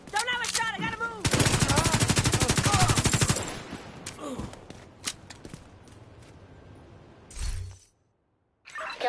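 Rapid automatic gunfire and scattered single shots in a firefight in The Division 2 set in New York, loud sustained bursts that thin into sporadic cracks, with shouted voices over the fighting.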